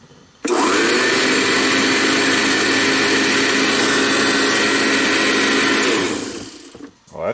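A Eureka 630D vacuum cleaner switches on abruptly and runs with a loud, steady, close whine and roar for several seconds, then winds down as it shuts off.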